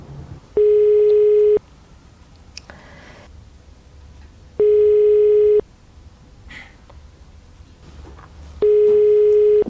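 Three evenly spaced bursts of a steady electronic telephone ringback tone, each lasting about a second, with quiet gaps between, as a studio quiz show's phone-a-friend joker is dialed.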